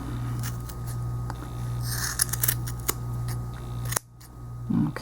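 Scissors trimming the ends of a crochet yarn tassel, a run of small close snipping clicks and soft cuts over a low steady background hum, with no talk.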